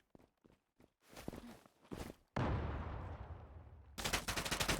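Automatic gunfire from the Zula online shooter, with sharp separate shots at first, then a loud sustained burst and a final rapid rattling volley, close and dominant.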